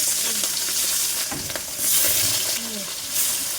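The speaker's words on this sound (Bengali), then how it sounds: "কড়া গরম হয়ে গেছে, কড়ার মধ্যে তেল দিলাম। এবারে একে একে আমি মাছগুলো ছেড়ে দিলাম।" Sitapati fish frying in hot oil in a wok, a steady loud sizzle with a few brief stirring scrapes and swells, no voices.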